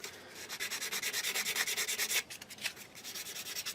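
Quick scratching strokes scrape nub marks off the edges of 1/32 scale plastic T-800 endoskeleton model kit parts, a close, steady rhythm of short rasping rubs that pauses briefly, then resumes in a lighter run.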